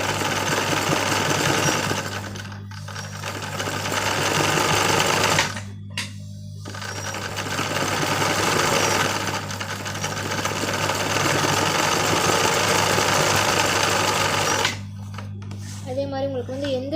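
A sewing machine runs in long steady bursts while stitching embroidery on a framed fabric, its motor buzzing and rattling loud and close, stopping briefly between runs, with someone talking over it.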